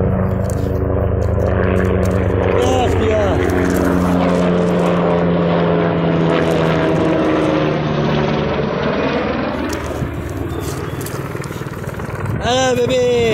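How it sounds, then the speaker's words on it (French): A loud helicopter roars close by, its rotor thudding and engine whining steadily, with the pitch shifting as it passes; a voice speaks briefly near the end. "le bruit qui fait l'hélicoptère"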